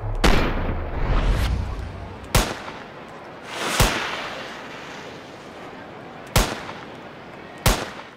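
Five sharp bolt-action sniper rifle shots ring out in the Ski Sniper video game, spaced irregularly over steady ambient noise, each a loud broadband crack with a short tail.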